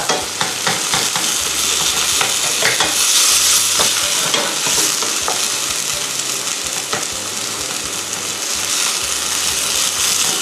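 Chicken samosa filling fries in a pan while being stirred, giving a continuous sizzle with repeated scraping strokes throughout, and no talk.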